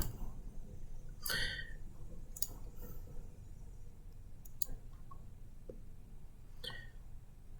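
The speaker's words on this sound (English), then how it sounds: "we press the A key there" A few sharp, isolated clicks spaced seconds apart, like keys being pressed, over a faint steady room hum.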